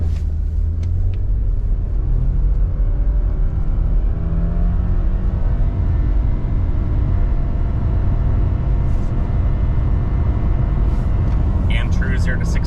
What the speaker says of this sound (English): Zero to 60 in the 2025 base model Impreza.